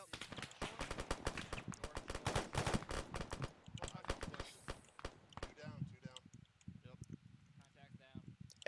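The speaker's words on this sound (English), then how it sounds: "Alpha's resuming fire" Fireteam gunfire during a military video game training session, with a dense run of rapid shots and bursts that thins out into scattered single reports, while voices talk over it.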